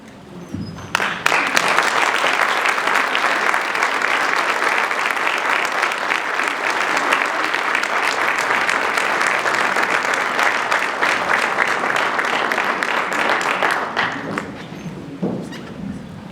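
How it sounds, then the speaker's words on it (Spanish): Sustained audience applause after a lecture by Fernando Valenzuela on technology, evolution and risk, rising sharply and holding steady for about thirteen seconds before tapering off, with a few scattered claps at the end. "Otro fuerte aplauso al maestro Fernando."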